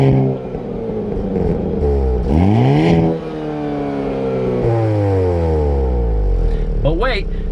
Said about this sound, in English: If you happen to put it in sport mode, this is what the car is going to sound like.